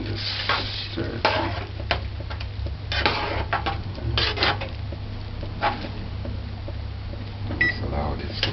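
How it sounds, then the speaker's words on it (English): Veggie chunks rendang being stirred in a pot with a spoon, giving soft scraping and clinks in bursts over a steady low stove hum, with some background noise. "just stir it."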